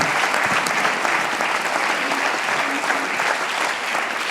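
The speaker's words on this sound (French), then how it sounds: "vous applaudissez parce qu'on est en direct" An audience at a live anniversary gala evening for Initiative Savoie breaks into dense, steady applause that stays loud and even throughout, with a hint of crowd murmur underneath.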